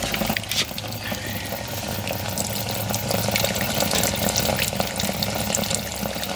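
A Fisher & Paykel washing machine drains, with a steady, continuous rush of pumped water pouring out at constant loudness and no talking.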